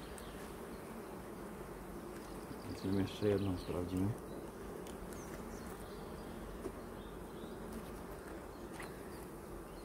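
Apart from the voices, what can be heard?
honeybees buzzing at the hive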